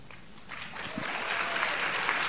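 An audience at a scientific congress applauding steadily, the clapping swelling from a moderate patter into a dense, sustained ovation with no voices over it.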